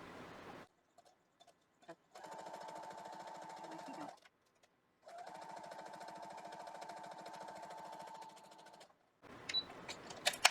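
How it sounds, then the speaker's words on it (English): A domestic sewing machine stitching two pieces of fabric together for a paper-pieced quilt block, running in two steady bursts of several seconds each with short pauses between, close and moderately loud with no talking. "So I'm going to sew 2 pieces together."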